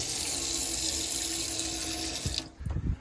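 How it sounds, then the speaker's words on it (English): Water running out of a Black edition Vigo coffee machine, a steady close hissing stream that cuts off near the end, followed by a few dripping, clattering sounds. "So let me just run the water out a little bit."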